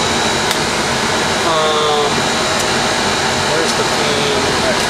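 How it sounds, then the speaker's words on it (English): An air conditioner runs with a steady, loud broadband whoosh and hum that fills the whole stretch without change, close by and alone. "obviously the air conditioning works. You can probably hear it."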